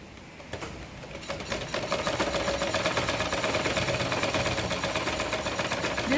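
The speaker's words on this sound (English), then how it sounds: "I'm going to stitch again on the same line." A sewing machine stitches a seam on a denim tote bag, starting slowly and then settling into a fast, steady mechanical chatter, close and alone.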